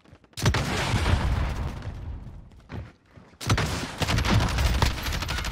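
Rapid bursts of automatic gunfire from a shooter video game, loud and close, with a brief lull partway through before sustained firing resumes.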